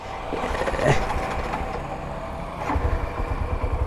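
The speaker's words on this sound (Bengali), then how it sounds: "এই দেখেন বাইকের স্টার্ট নিয়ে নিছে" A fuel-injected motorcycle engine catches and settles into a close, rumbling idle with a steady low pulsing throb under broadband mechanical noise.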